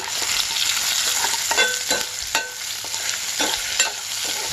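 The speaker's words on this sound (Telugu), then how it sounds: "బాగా ఎర్రగా వేగాలి. వేగితేనే రుచికి రుచి, టేస్టీకి టేస్ట్." Tomato pieces fry in a pan with a loud, close, steady sizzle, punctuated by several scraping stirs of a spoon against the metal and no voices.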